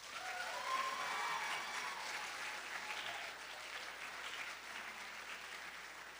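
A school audience at an 8th grade recognition ceremony gives a sustained round of applause for a scholarship award winner, loudest at the start and gradually thinning, with no talk.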